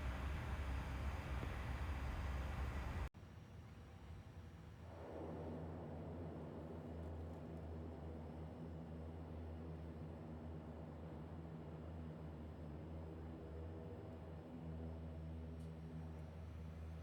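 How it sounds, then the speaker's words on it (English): A Qantas Dash 8 turboprop taxiing to the runway at Brisbane: a steady engine drone and broadband rush heard from inside the cabin, continuous and fairly loud throughout after a brief louder opening segment. "we taxied out to the new runway in Brisbane"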